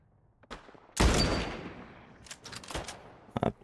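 A single loud rifle shot in The Last of Us Remastered, apparently a sniper rifle, booms with a long fading echo, followed by a few softer, scattered pops.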